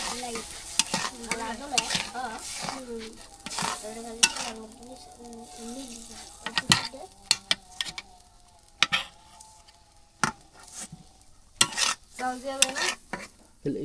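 Spice paste fries and sizzles in a pan on a clay village stove, with a spoon repeatedly stirring and scraping against the pan in an irregular rhythm up close.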